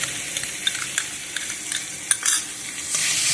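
Cumin paste sautéing in a pan for a cauliflower and egg dish, with a close sizzle broken by repeated scraping stirs of a spatula, the frying hiss swelling toward the end; no one speaks.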